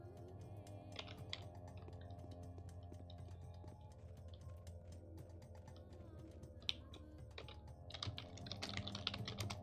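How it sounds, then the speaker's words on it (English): Console commands are being typed on a computer keyboard: steady, faint clicking of keys in quick irregular bursts over a low hum, with a denser flurry near the end. "I don't know why I'm typing this in again."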